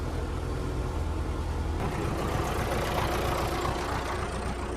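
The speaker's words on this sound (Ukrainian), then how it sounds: "дуже круто кататись на тракторі" A tractor engine runs steadily in a hay field during baling and hay collection, a loud, close, continuous rumbling drone with no voices over it.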